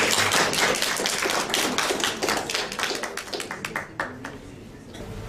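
An audience claps warmly to welcome a speaker at a talk, dense loud applause that thins into scattered claps toward the end.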